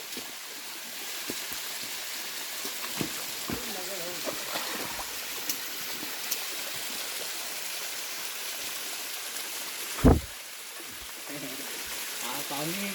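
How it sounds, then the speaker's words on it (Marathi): A small secret waterfall near Gumtara Fort in Bhiwandi, running with low water, gives a steady broadband rush of falling water for the whole stretch, with one sharp thump partway through. "हा आहे सिक्रेट वॉटरफॉल"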